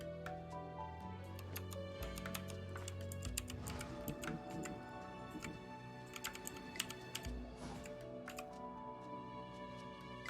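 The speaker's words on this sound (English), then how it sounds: "It's an ultra clicky keyboard." Ultra-clicky mechanical computer keyboard typed rapidly and continuously, with dense crisp clicks layered over background music and no talking.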